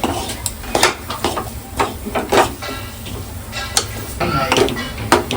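A potato vegetable filling is sautéed in a pan, with repeated scraping and stirring clatter of a utensil against the pan over a faint sizzle, and a voice talks throughout.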